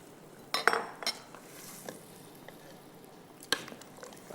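Soaked rice is stirred into boiling water in a cooking pot, giving a few faint clinks and soft scrapes of the spoon against the pot with quiet gaps between them and no talk.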